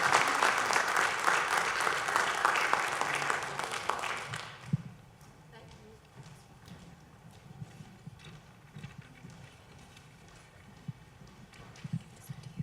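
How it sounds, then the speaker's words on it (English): Audience applause for a panel at a mental health summit, dense and steady for about four seconds, then fading into a quiet hall with scattered soft thumps and rustling. "let's give them a round of applause"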